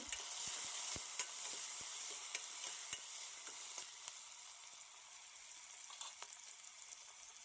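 Tomatoes fry with onions in a pan for a stuffed eggplant curry, a dense continuous hissing sizzle with faint ticks and pops scattered through it, steady and close, no voices.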